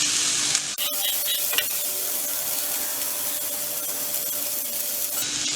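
Potato and broccoli stir fry dry roasting uncovered in a pan gives a steady, soft sizzle and hiss, with a spoon knock and scraping early on, close and with no voices.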